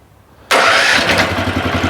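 A walk-behind tractor engine with an electric starter cranks briefly and fires, then settles into a loud, steady idle close by.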